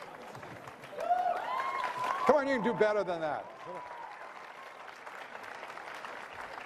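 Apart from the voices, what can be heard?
audience applause at debate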